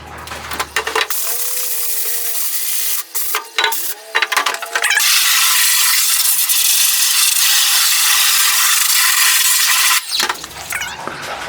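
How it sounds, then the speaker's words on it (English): A pressure washer spraying a screen printing screen clean, a loud steady broadband hiss of water jet running almost continuously, with brief interruptions and scraping-like shifts early on. "I'm going to use my pressure washer"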